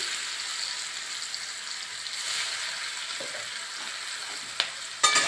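Elephant foot yam fries in a pan with turmeric and salt, giving a soft, continuous sizzle with light stirring, then a couple of sharp scrapes and clinks at the end.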